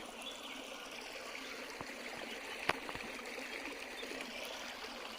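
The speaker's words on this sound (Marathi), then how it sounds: "हे वाहतं पाणी जाऊन खाडीला मिळतं जाऊन समुद्राला मिळतं" A stream flows steadily at a fish pool on a Konkan creek during summer fishing, a soft continuous trickle with a faint splash partway through and no talking.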